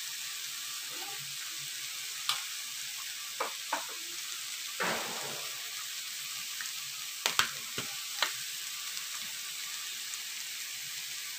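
Onion sizzles gently in a pan with salt and black pepper while a spoon stirs it, giving soft continuous frying hiss broken by occasional scraping clicks and knocks against the pan.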